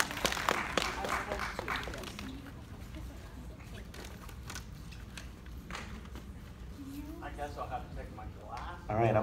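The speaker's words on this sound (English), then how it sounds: "Applause!" A convention crowd at a horror fan weekend claps in a scattered burst that fades after a couple of seconds, with speech and chatter continuing over the room afterward.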